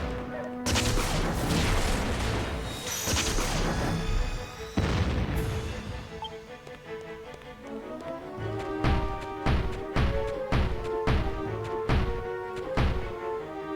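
Cannons firing in Dragon Quest Builders: a dense barrage of booms and crashes early on, then a steady run of evenly spaced thumping shots over game music.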